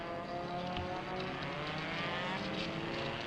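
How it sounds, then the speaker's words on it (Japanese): Cars passing and revving at a distance, a continuous faint wash of engine noise and road roar with no clear individual events standing out. "いろんな車の音が出てくるわ。"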